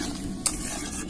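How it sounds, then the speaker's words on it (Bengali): Masala curry being stirred in a hot pan with potatoes, a soft steady scrape and low sizzle running throughout, with one brief sharper clink partway through. "এরপর ভালোভাবে নাড়াচাড়া করে নেবো।"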